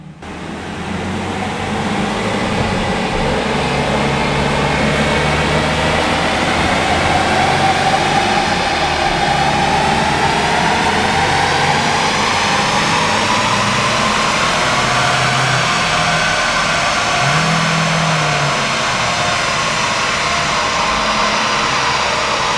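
An Opel Astra J 1.6 CDTI diesel engine runs at steady high revs during a smoke test, a loud continuous drone with a slowly rising and falling pitch that lasts the whole time.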